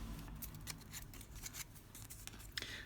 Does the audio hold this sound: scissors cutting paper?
yes